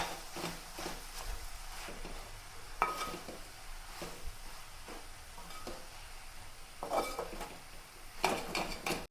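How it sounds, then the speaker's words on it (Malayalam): Chicken noodles are tossed and mixed in a pan, repeated metal utensil scrapes and clinks against the pan over a low sizzle, close, in uneven bursts, no voices. "അപ്പോൾ നൂഡിൽസൊക്കെ ഞാൻ നന്നായിട്ട് മിക്സ് ചെയ്തിട്ടോ"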